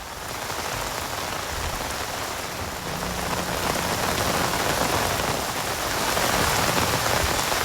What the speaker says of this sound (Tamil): தமிழகத்தில் 3வது நாளாக கனமழை.